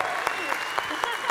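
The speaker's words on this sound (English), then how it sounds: "Big round of applause." An audience claps for the winner of the AVCon 2014 Madman National Cosplay Competition, a brief, steady burst of applause with a few sharper beats standing out.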